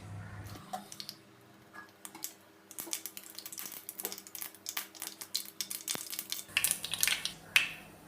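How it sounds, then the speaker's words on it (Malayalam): Mustard seeds pop in hot coconut oil in a home kitchen pan, a scatter of small sharp crackles and ticks that thicken near the end, close and fairly quiet with no talking. "കടുക് പൊട്ടിയിട്ടുണ്ട്."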